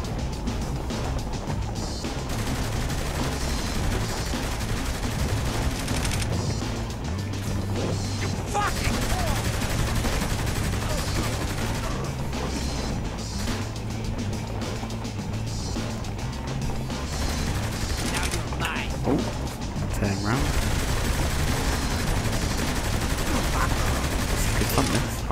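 Rapid bursts of automatic gunfire during a mid-air fight in Saints Row The Third, with constant engine roar and rumbling explosions beneath, loud and continuous.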